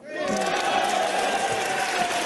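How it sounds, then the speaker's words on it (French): Cheering and loud shouting from members of the French National Assembly as a session is suspended, a dense, sustained crowd roar rising quickly and holding steady. "Acclamation derrière la suspension."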